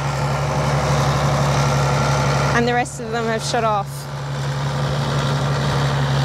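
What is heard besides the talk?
Ford 7810 tractor engine running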